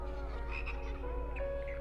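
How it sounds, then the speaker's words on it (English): South American tree frog from the cartoon Amphibia croaking in a steady, continuous, fairly loud call with a sustained tonal quality, heard alone without talk. "South American tree frog."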